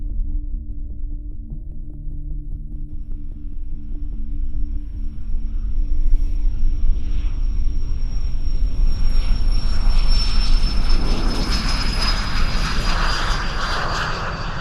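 Propeller airplane with a horizontally opposed four-cylinder engine, a loud steady throbbing drone and rumble that swells as it runs up, with a faint high whine above, no voices.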